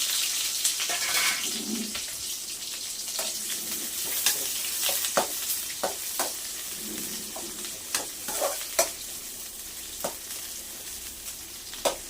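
Onions frying in oil with mustard seeds in a pan, a steady crackling sizzle with scattered sharp pops and occasional stirring scrapes throughout.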